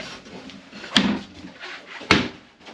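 Two drawers in an ice fishing house slide and knock shut about a second apart, each a sharp close wooden thump with rattle, between soft rustling handling.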